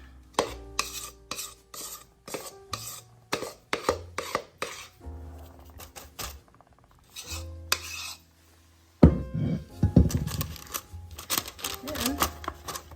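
Grandma's vintage blonde fudge is scraped and spread into a pan, a run of quick utensil scrapes and metallic clinks in bursts with a short pause, then a louder stretch of scraping, while someone talks nearby.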